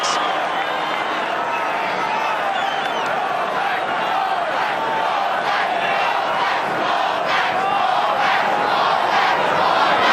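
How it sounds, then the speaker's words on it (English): A large rugby crowd at Jade Stadium roars in support of the All Blacks against Australia, a dense, steady wall of cheering and shouting that holds loud and unbroken throughout. "crowd giving the All Blacks their best support"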